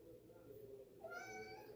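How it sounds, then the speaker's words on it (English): A house cat's meow, a single drawn-out harmonic call rising in the second half, close and moderately loud over a low background hum. "Meow."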